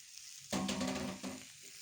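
Liver and carrots hit a well-heated pan with a sudden loud sizzle, a stirring scrape partway through, then a quieter simmering hiss.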